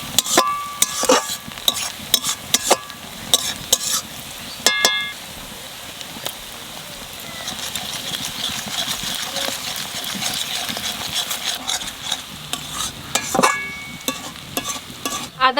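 Onions fry with ginger-garlic paste in a pan for an egg curry, sizzling steadily while a spoon scrapes and clatters in repeated stirring strokes close by.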